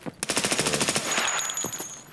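Automatic weapon fire in Escape From Tarkov, a steady string of about a dozen rapid shots that then trails into a sustained noisy echo, loud and close with no talking.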